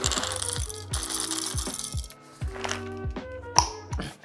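A Comandante hand coffee grinder set to 20 clicks grinds about 20 g of coffee beans. It makes a steady run of close ratcheting, crunching clicks with short pauses between turns, and one sharp tap near the end.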